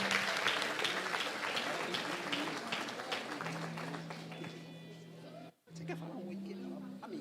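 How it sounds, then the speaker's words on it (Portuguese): A church congregation at a Sunday service applauds with continuous clapping that gradually softens. Sustained musical tones and some voices carry beneath it, and there is a brief drop out near the end. "Você pode aplaudir ao Senhor pela recepção desses irmãos."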